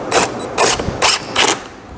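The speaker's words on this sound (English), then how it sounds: "Now I'm putting the last of the screws in." Pocket screws being driven into a shaker-style wooden work table held in a jig, heard as four loud, evenly spaced bursts of whirring driver noise, each roughly a quarter second long, with short quiet gaps between them.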